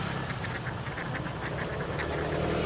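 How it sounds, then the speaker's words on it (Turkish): A flock of ducks in Bali rice paddies quacks continuously, a dense chorus of overlapping calls over broad outdoor ambience with no talk. "Bakın burada da bir sürü ördek var."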